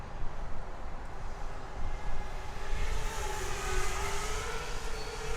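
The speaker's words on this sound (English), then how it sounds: "So I'm going to do some kind of just slow cruising" A CMW Moneyshot Mini RC helicopter cruises slowly outdoors, its steady whirring rotor and motor drone holding a constant, moderately loud tone with a gently rising pitch.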